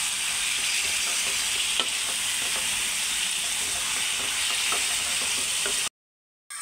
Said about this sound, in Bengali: আমি এর মধ্যে ঝিঙেগুলো দিয়ে একটু নাড়াচাড়া করে নেব।